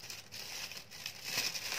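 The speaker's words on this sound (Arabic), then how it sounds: "اهم شيء اخرج من الكيس الهواء" A plastic freezer bag holding sheep tail fat crinkles and rustles steadily as air is pressed out of it by hand. The sound is close and fairly quiet, with a continuous papery crackle and no voices.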